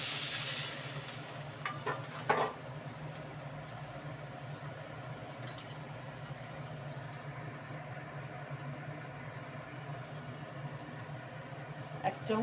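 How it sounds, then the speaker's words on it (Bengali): Onions fry in a pan, with water added to the pan. A steady, quiet sizzle hisses throughout, broken by a few faint clinks and stirring scrapes. "একটু ভেজে নিই পেঁয়াজটা লাল করে।"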